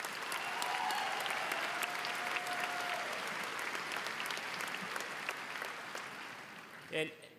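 Audience at the 2017 Lake Area Technical Institute commencement breaks into a long, dense round of applause, steady and loud before gradually thinning out, with a brief thump near the end.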